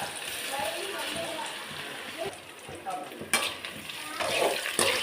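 Taro root (seppankizhangu) deep frying in hot oil, a soft continuous sizzle with occasional stirring clinks and sloshes, under intermittent talking.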